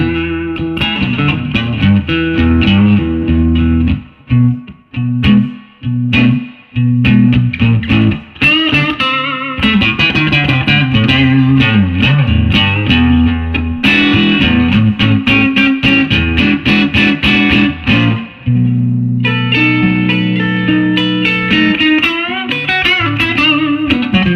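Electric guitar on the neck pickup through an ENGL Classic Tube 50w valve amp's clean channel with reverb, gain near halfway, playing loud, ringing chords and melodic runs with brief pauses, no voice.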